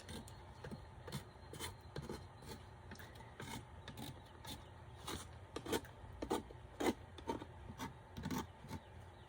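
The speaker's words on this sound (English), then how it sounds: "Now let's scrape back." Paint is scraped back on a mixed media piece with a series of short, rasping strokes, faint and close, in an uneven rhythm that grows slightly more frequent and louder toward the end.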